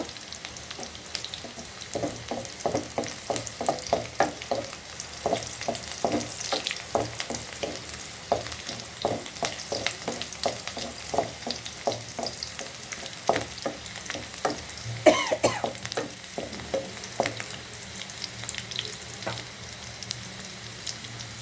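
Onions frying until red-brown give a steady close sizzle with frequent crackles and spoon scrapes against the pan, busy and even throughout with no talk.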